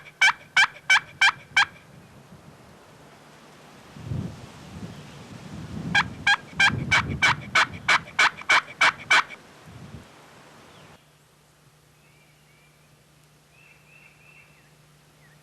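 Wild turkey gobblers gobble in the outdoors: two loud, close bursts of rapid rattling gobbles, separated by low rustling and wind noise, followed by a quieter stretch with faint distant calls.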